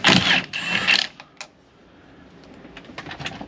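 A ratchet with a 19mm socket works the center nut on a Kawasaki Ridge motorcycle, giving a loud burst of rapid clicking up front, then a single click and quieter scattered ticks trailing off.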